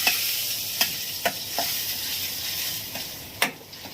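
Onion gravy sizzles softly in a pan, with a handful of sharp clinks and scrapes from a spoon stirring it, and no one speaking.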